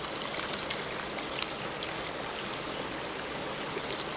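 Homebrewed beer wort runs from a natural grain-bed filter in the mash, a steady close trickling and splashing of liquid that continues evenly throughout with no talking.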